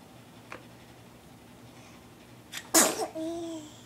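A single sharp sneeze bursts out of a quiet room, followed by a brief tonal squeak or whine as it fades.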